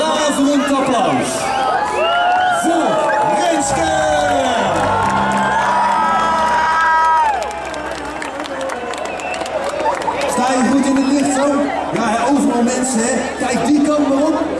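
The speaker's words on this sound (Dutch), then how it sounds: "Een daverend applaus" Outdoor crowd at a proms concert in Heerenveen cheering for a contest winner, loud whoops, shouts and children's voices with scattered clapping, mixed with busy chatter throughout.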